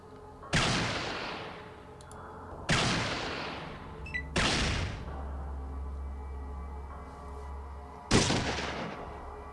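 Mauser pistol gunfire in the retro Fallout game: four loud, sharp shots spaced a couple of seconds apart, each with a booming decay and a low rumble between them, with no talking.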